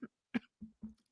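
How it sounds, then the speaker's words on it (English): Four short, sharp coughs spaced over about a second, close and fairly quiet, with no other talk. "Cough."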